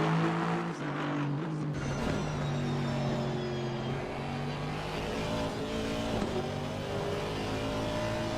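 An Aston Martin race car with side-exit exhaust in a sim racing game endurance event at Spa roars steadily at high revs, with gear changes, a sustained loud engine drone, and no speech.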